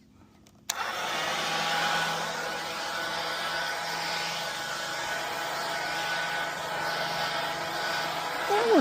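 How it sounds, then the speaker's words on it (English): A Hyper Tough leaf blower switches on abruptly and then runs with a steady, breathy whoosh and motor whine at moderate volume for several seconds, alone after a quiet start. "Now let's make sure that the blower works."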